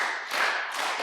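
A church congregation claps hands together in unison, a short burst of many hands slapping, close and moderately loud.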